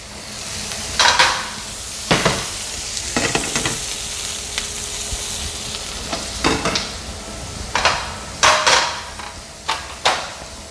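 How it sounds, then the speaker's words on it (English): A filet mignon steak sears in a pan on a stove, giving a steady sizzle broken by sharp scrapes and clinks from the pan and utensils. "and I'm gonna cook the steak"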